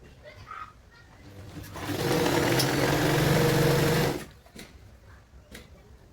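A sewing machine runs a steady stitching burst of about two seconds through stretched fabric for wide-leg palazzo pants, loud and close, with quieter handling noises before and after.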